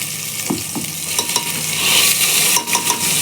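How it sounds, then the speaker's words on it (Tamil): Ground masala sautés in oil for chicken curry, a loud continuous sizzle broken by scraping stirs and light clinks of a spoon against the pot, close up with no talk. "எண்ணெயில் வதக்கிடலாம்"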